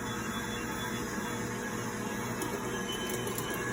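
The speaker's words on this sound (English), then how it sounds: "You can tell this grinder is wore out. You can see the worm gear in it is just turning." Worn-out meat grinder with a slipping worm gear grinding fatty pork, a constant dense mechanical grinding drone holding steady throughout with a faint high whine on top.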